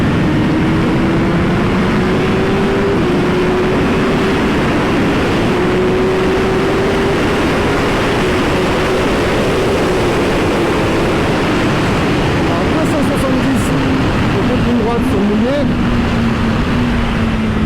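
Honda CBR1000RR-R Fireblade SP on Pirelli rain tyres accelerating down a straight, a steady engine drone rising in pitch with rushing wind noise throughout, heard from on board with someone talking over it.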